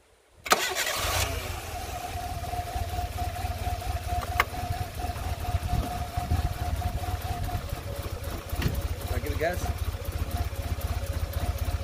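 Mitsubishi Mirage fitted with bigger injectors and no tune cranks and fires up, then settles into a steady close idle with a faint whine, with a few background noises.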